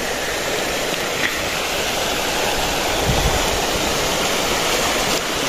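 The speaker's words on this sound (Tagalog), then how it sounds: "Parang doon sa taas ng falls." A waterfall at a farm resort pours in a steady, broadband rush of falling water, close and constant throughout with no voices.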